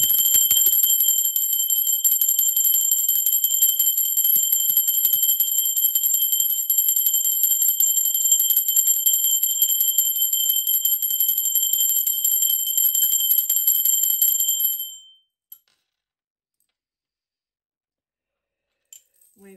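A bright, sustained metallic bell tone rings steadily and loudly for about fifteen seconds, then cuts off abruptly into near silence broken by a couple of faint ticks.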